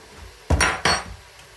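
Two quick metallic scrapes and clinks of a utensil against a pot while stirring a spicy Korean chicken stew, close and fairly loud in a quiet kitchen, with no talking.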